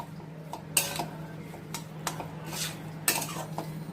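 A spoon stirs paneer into a capsicum momo filling in a pan, giving light metallic clinks and taps with soft scraping between them, close and moderately quiet over a faint background hum.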